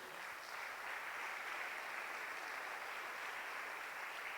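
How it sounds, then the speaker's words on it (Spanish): A church congregation applauds, a steady, dense wash of clapping that holds evenly throughout at moderate distance. "Dale un fuerte aplauso a Dios."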